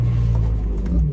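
A 1995 BMW 325i E36 engine fires up, a deep steady low rumble close by with no voices over it.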